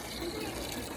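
Water running from a tap, filling a container: a steady, close, unbroken gushing wash that holds at an even level throughout, with no voices over it.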